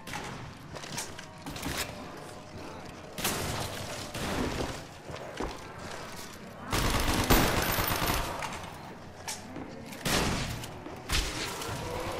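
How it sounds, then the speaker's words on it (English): Black Ops Zombies (Kino der Toten) SMG fire, repeated rapid bursts of gunfire in uneven volleys, louder clusters around the middle and near the end, with faint game noise between bursts. "With this SMG, I bring death!"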